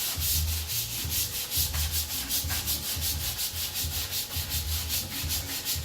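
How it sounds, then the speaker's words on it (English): A stiff brush scrubs tile grout after a whitening cleaner made from household products has soaked in, giving steady rhythmic back-and-forth rasping strokes, close and fairly loud, with no talking. "You scrub it not just one way, but you got to hit that shit the other way too."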